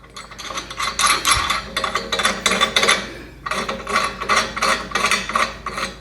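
Bolts being tightened against a tractor's ROPS bar while fitting a universal ROPS umbrella, rapid ratcheting and grinding metal clicks in repeated bursts with short pauses, close and fairly loud.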